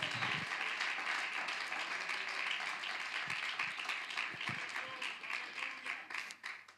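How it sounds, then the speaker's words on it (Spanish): A church congregation at a retreat applauds for the Lord, a sustained dense wash of clapping from a crowd that fills the room throughout and tapers slightly toward the end. "Yo no sé si aquí hay alguien que le pueda dar un aplauso al Señor en este momento."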